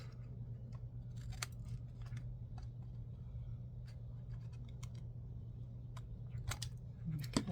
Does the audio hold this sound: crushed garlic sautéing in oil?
no